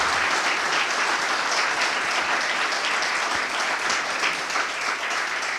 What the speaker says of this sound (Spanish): pedir un aplauso para Jorge y Sebastián